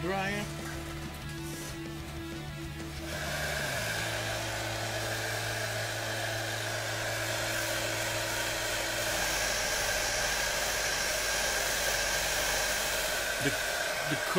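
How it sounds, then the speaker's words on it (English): Hair dryer blowing on fresh paint on a Revell MiG-21 F-13 Fishbed C plastic model kit, a steady close whine and rushing airflow that starts after a few seconds and runs continuously. "So now air dryer."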